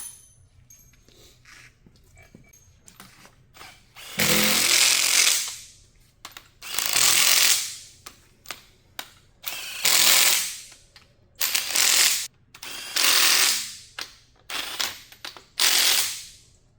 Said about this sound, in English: We gotta torque them.